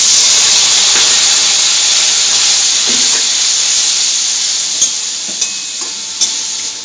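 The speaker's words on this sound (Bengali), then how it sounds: "অল্প একটু জল দিয়ে দিচ্ছি।" A little water poured into hot spice masala in a pan while making chola bhatura sets off a loud, steady sizzling hiss that slowly fades, with a few soft clinks of stirring near the end.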